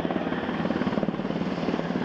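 A military helicopter at a special operations forces demonstration in Tampa, Florida, carrying a combat raiding craft slung underneath, gives a loud, steady rotor thump and engine roar throughout.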